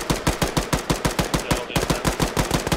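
Arma 3 gunfire: a long, evenly paced string of loud, close single shots, about six per second, fired steadily through a full magazine with only a slight hitch midway.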